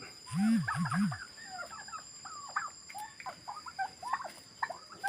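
Turkeys foraging on grass give a string of short clucks and chirpy calls, moderately close, scattered irregularly over a quiet outdoor background.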